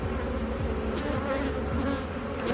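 Honey bees swarming around an open hive during a beekeeping check in Jamaica, a loud continuous close-up buzz that holds steady throughout with no talk.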